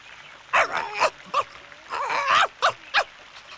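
Small puppy in an animated Hindi children's story yelps and barks in several short bursts, close and fairly loud, with a few softer whimper-like calls between them.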